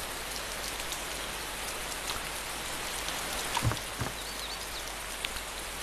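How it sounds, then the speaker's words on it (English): Heavy rain pours outside in a video game scene, a steady dense hiss of drops on surfaces with a few faint knocks and bumps partway through, no voices. "Absolutely pissing down with rain outside."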